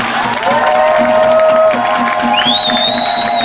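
A protest march crowd for economic justice in Santa Barbara cheers and applauds an organizer, a steady dense roar of clapping and shouts with a high whistle-like tone rising near the end.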